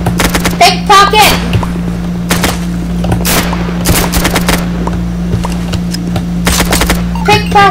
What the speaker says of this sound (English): Stop shooting for a second!